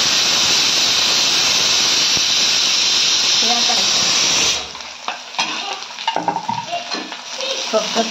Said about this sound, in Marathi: त्यासाठी ताईंनी आता कांदा तळत टाकलाय आणि टोमॅटो टाकतील